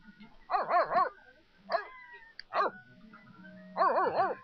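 A dog in The Sims 3 Seasons barks in four separate bursts of two or three quick yips each, spaced over several seconds, loud and close with a quiet pause between.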